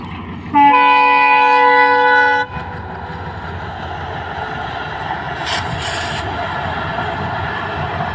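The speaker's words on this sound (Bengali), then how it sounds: "ওই যে ট্রেন আইতাছে।" A train approaching near Mongla sounds a long, loud horn blast for about two seconds, followed by the steady rumble of passing rail cars with brief brighter clatter toward the end.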